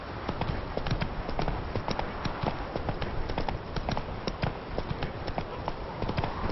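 Horse galloping in The Witcher 3: Wild Hunt, a steady rapid clip-clop of hooves running close and loud, with a continuous rush of movement beneath the repeating beats.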